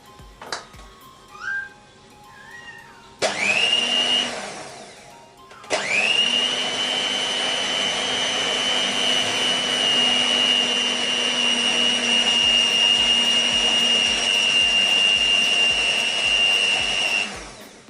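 An electric mixer beats pumpkin cupcake batter close up: a brief whirring burst, a pause, then a long, loud, steady high-pitched motor whine that holds until the end.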